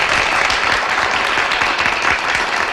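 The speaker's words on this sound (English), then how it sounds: "I swear to God, I'm going to delete that applause button." Applause sound effect triggered by a button, a dense burst of crowd clapping and cheering that fills the short moment at steady loudness.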